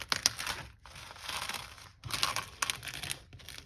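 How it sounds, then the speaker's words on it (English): Faux rice paper for a junk journal being peeled off a surface, giving close, continuous crinkling and tearing in several strokes with brief pauses between pulls. "I'm just going to start peeling this off."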